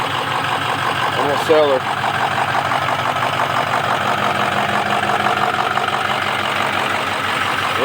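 A Ford F-250 pickup truck engine idling steadily up close, a continuous rough rumble with a brief squeak partway through, while someone talks over it.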